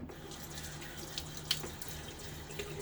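Tap water running and dripping into a bathroom sink during a wet shave with a safety razor, a soft steady trickle with a few small splashes and drips, fairly quiet and alone.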